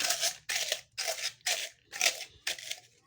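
Acacia gum being crushed into powder with a stick for chikki, six rhythmic gritty crunching strokes about half a second apart, close and fairly quiet, without any talk.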